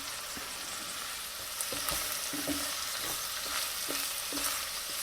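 Carrots go into a pot already cooking onions and garlic for a Hungarian goulash, with a steady soft sizzle broken by a few dull thuds and knocks.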